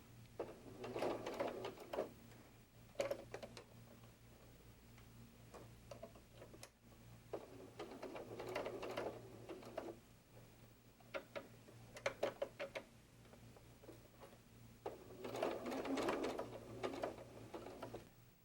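A sewing machine stitches a fabric bear softie's arm onto its body in short bursts of rapid ticking needle action separated by pauses, over a low steady motor hum.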